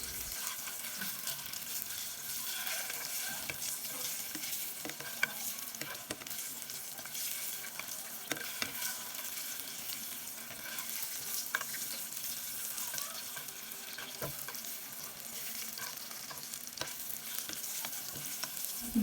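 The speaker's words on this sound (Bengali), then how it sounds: "ডিমগুলো অনবরত নেড়ে চেড়ে ভেজে নিচ্ছি" Broiler chicken eggs are stirred and fried in a pan until reddish-brown, giving a steady, close sizzle with scraping and stirring scuffs throughout and no talk.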